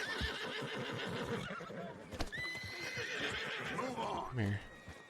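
A horse in Red Dead Redemption 2 lets out a loud rising whinny, then snorts, while hooves clop steadily and someone talks throughout.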